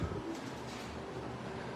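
Pigeons in a loft at night give soft, repeated coos close by, steady and low against a quiet indoor background, with no voices.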